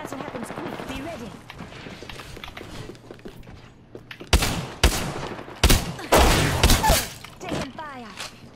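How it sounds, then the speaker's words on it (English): Gunfire in the video game Apex Legends, a run of sharp, loud shots and bursts in the second half, preceded by game voice lines and background sound. "Taking fire."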